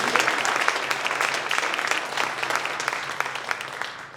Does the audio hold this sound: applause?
yes